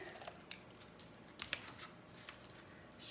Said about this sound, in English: So first thing I want to do is cut 3